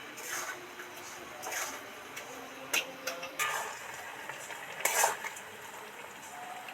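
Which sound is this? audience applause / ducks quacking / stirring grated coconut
stirring grated coconut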